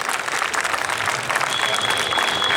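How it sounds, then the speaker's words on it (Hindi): Vigorous, sustained applause from a large crowd at the closing ceremony of a science festival, dense and close, with a faint voice mixed in beneath the clapping. "तालियां बजती रहनी चाहिए।"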